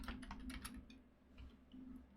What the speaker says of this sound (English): Oh, come on, keyboard.